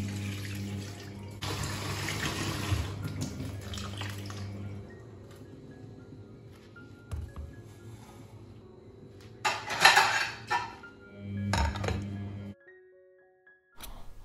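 Rice being washed in water for ghee rice in a home kitchen, with splashing, dripping and trickling, swishing bursts and a louder slosh near the end, close and without talk.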